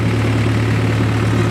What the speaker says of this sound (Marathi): मित्रांनो बघा आता ट्रॅक्टरमध्ये बसून चाललोय मी. सीधा आबा ट्रॅक्टर चालवतोय.